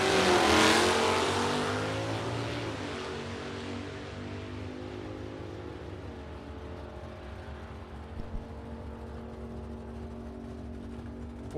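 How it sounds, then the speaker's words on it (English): Vintage drag race cars with a 413 wedge engine and a 427 FE engine rumble loudly and steadily. The roar is strongest at first, then settles into a sustained, slightly fading drone at a drag strip. "I'm going to assume that's a 413 wedge motor in there, 427 FE motor in the right lane."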